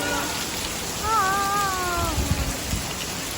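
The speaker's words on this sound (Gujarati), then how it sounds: "અહીં તો બહુ બધો વરસાદ આવી રહ્યો છે" Dense, steady hiss of heavy rain fills the scene, while a cat lets out one drawn-out meow partway through.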